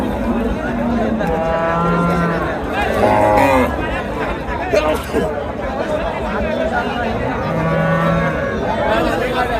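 Cattle low several times at a busy rural livestock market in Sonaichandi, Chapainawabganj, Bangladesh, the moos rising over a steady crowd murmur and nearby chatter.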